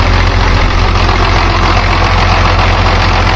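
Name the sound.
tractor engine idling after start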